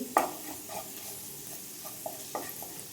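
Spices with turmeric and Kashmiri chilli powder sizzling in a pan, a low steady fry broken by a few clear stirring scrapes and taps, close by and without speech.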